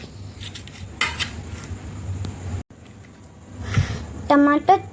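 Food being turned out and moved onto a plate in a home kitchen, with clinks and scrapes of utensils against dishware, including a sharper metallic clatter near the end, under a voice explaining the step.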